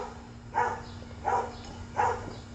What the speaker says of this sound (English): the fucking dogs start barking?